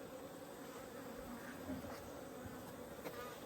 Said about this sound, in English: So again, good bee numbers. These guys are heaps quieter at the moment.